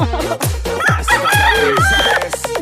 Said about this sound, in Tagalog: Kahit saan ka tumingin, anywhere, may manok.